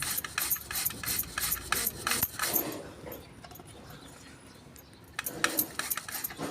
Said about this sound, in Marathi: असा हा खिस पडतो किती छान खिस पडतोय